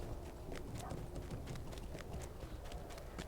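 Horse hooves clip-clop at a quick, steady pace in a video game set in a city in Gondor, a continuous run of close, even beats with no gaps.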